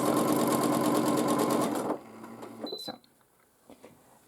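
A sewing machine runs fast and steadily while winding a bobbin for a blue scrap quilt, then stops abruptly, followed by a few faint clicks and small handling sounds.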